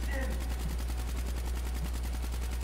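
Rapid automatic gunfire in Call of Duty Black Ops, a loud continuous stream of evenly spaced shots over a low rumble, with a voice briefly talking underneath.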